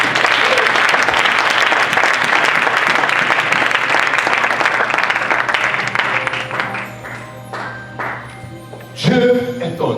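A church congregation applauds loudly and steadily to acclaim the Lord, a dense crowd clapping that thins out toward the end with a few scattered claps and a brief renewed burst.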